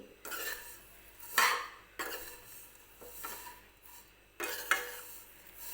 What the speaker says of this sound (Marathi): व्यवस्थित तुपामध्ये शेवया सगळ्या मी परतून घेते.